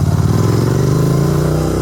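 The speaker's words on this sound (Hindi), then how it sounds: "अभी बाइक चल रही है, तो इसीलिए मैं टो करवा के नहीं, ऐसे लेके जा रहा हूँ।" A Royal Enfield Continental GT 650 motorcycle, still running after an accident, idles loudly and steadily up close, its engine thrumming with a low, even pulse and no voices over it.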